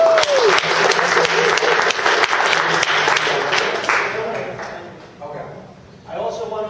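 An audience at a database engineering talk claps for a speaker, strong dense applause that thins and fades after several seconds as a voice begins speaking.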